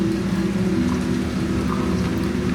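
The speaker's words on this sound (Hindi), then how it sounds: "बारिश तो काफ़ी तगड़ी हो रही है यार" Heavy rain falls steadily during a road trip, a dense, continuous hiss and patter close by with a low rumbling undertone, no voices.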